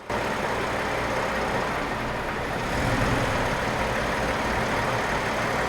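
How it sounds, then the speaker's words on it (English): A Toyota V6 car engine idles steadily and close by, a low continuous rumble that swells slightly partway through, with no talking. "Watch what happens to the engine when I activate it."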